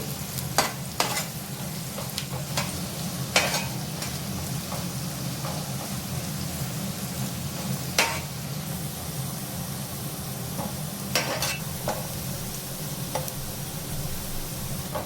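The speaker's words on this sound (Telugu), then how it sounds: "కొన్ని అయితే ఫ్రై చేసి పెట్టుకుందాం మంచి బ్రౌన్ కలర్ వచ్చే వరకు ఫ్రై చేసుకోవాలండి" Chicken dum biryani ingredients fry in a pan until brown with a steady, close sizzle, broken now and then by sharp clicks and scrapes of stirring.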